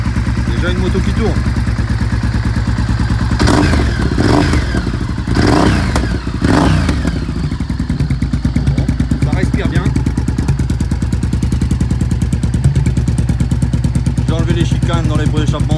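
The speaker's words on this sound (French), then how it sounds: "Déjà une moto qui tourne." A just-started motorcycle engine idles with a loud, rapid, even thumping beat, close by, broken by a few clattering knocks and brief revs, with a person talking over it.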